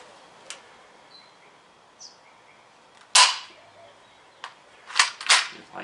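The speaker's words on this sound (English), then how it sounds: "going to test this out using an airsoft gun in the backyard" Airsoft gun shots are fired through a ballistic chronograph in a backyard, sounding as a few sharp, isolated snaps spaced irregularly, one louder crack followed later by a quick pair, with faint bird calls in the quiet background.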